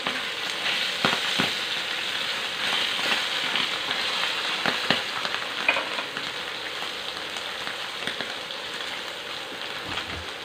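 Fish fries in a pan of hot oil with a steady, dense sizzle and scattered pops throughout, close and constant.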